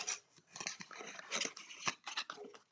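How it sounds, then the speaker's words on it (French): Dogs from the neighbours' property bark in faint, scattered bursts throughout, with irregular yelps and rough noisy clusters rather than a steady rhythm. "Désolé, mon chien va sûrement japper. Les chiens des voisins."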